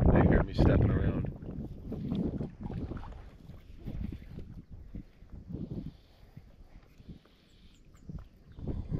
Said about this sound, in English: wind has definitely picked up by like 2 or 3 knots